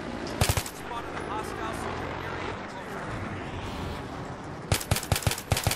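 A Jeep-mounted gun fires in the Battlefield 3 video game, on the Kharg map in Conquest mode. Sharp rapid bursts open the stretch and return near the end, with rumbling battle noise and talking in between.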